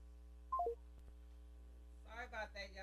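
A telephone line dialing into a radio call-in show: a quick series of touch-tone beeps over a steady low line hum, then a brief click and garbled noise on the line near the end.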